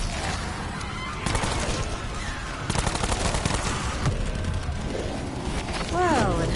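Video game gunfire from a big-bullet gun in a gladiatorial arena, rattling bursts of shots over steady battle noise, with talking mixed in and a honking, squawking sound near the end.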